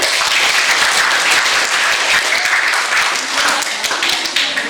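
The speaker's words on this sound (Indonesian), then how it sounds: "Beri tepuk tangan." Students applauding during a quiz at the Samudra Pasai Islamic museum, loud close clapping from a group that runs continuously and tapers slightly toward the end.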